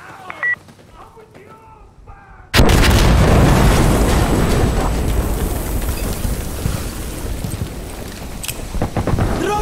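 A grenade explodes in a hardcore Insurgency Sandstorm match, a sudden loud blast after a shouted voice line, followed by a long, roaring rumble of debris and wind that fades only slightly.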